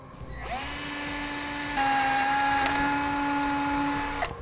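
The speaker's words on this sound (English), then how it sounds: "We need to drill a small pilot hole in between these two holes." A power drill boring a small pilot hole into the steel subframe extension of a 2017 Ford Edge, a steady whining motor that rises in pitch midway and then stops abruptly.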